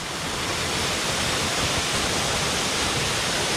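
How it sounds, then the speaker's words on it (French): The Chute du Galion waterfall in Guadeloupe roars as a loud, unbroken rush of falling water heard up close, a dense steady hiss with no voices. "Je sais pas si on s'en rend bien compte, mais de la taille de cette cascade elle est énorme."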